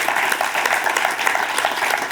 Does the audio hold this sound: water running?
no